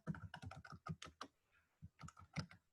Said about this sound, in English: let's just type that in